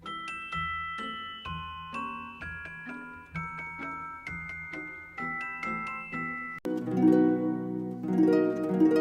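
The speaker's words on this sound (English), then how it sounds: "They give the celeste its bell-like sound." A celeste, whose metal bars give it a bell-like sound, plays a slow sequence of bright, bell-like notes, each chiming and fading, before a fuller chord rings out near the end.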